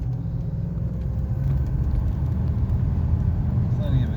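A 1998 Cadillac drives around a corner, heard from inside as a steady low engine and road rumble that swells slightly, with a voice talking over it.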